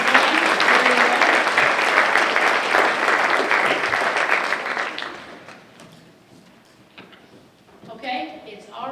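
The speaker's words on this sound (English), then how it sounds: "Let's give Aaron a big round of applause" Applause from the audience at a school district geography bee fills the room for about five seconds, then tapers off into quiet room noise as a voice begins speaking.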